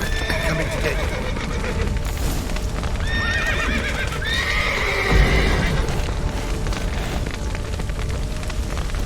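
Horses in The Witcher 3 video game whinny several times in loud, drawn-out calls over a steady clatter of hooves, with a dense layer of game background noise underneath.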